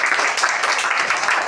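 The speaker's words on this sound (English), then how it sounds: "clap for her" Schoolchildren applauding a classmate at a spelling competition in a classroom, a dense burst of many small hands clapping together, close and steady for about a second and a half.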